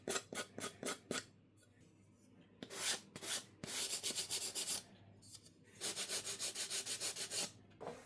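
Edges being sanded by hand with high grit sandpaper during a bike build, short rhythmic rubbing strokes in quick bursts separated by pauses, close and fairly quiet with no talking.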